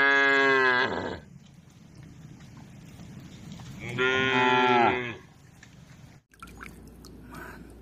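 Two long, deep cow moos, each lasting about a second, sound close and loud with a quiet pause between them, followed by faint wet squishing noises.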